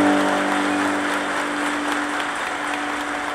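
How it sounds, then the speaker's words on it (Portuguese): Applause for a couple at a wedding ceremony, a continuous wash of many hands clapping at a steady level, with a faint tonal hum underneath at the start. "Palmas pro casal."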